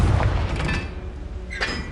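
Confringo and Glacius spell blasts from the video game Hogwarts Legacy hit in quick succession as booming, crackling impacts over a low rumble, with a sharper burst near the end.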